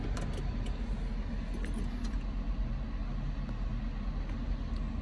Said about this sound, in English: take out the other keys